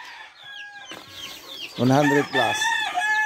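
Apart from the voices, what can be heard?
day-old chicks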